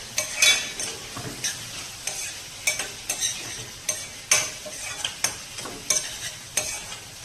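Onion and green garlic sautéed in a pan, with a soft sizzle under repeated quick spatula scrapes and taps against the metal, about a dozen strokes, close and without talk.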